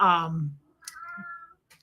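A house cat meows once, loud and close, then a few fainter chirpy sounds follow in an otherwise quiet room.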